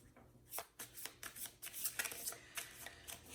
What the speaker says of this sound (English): let me pull another card for that.